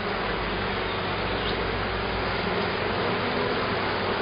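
Dense, steady buzzing of many bees at close range during an inspection of a swarm hive, filling the whole stretch without pause.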